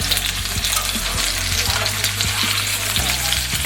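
Duck breast sears in a hot pan after being flipped, a steady crackling sizzle that runs close and loud throughout, with a low tonal hum underneath.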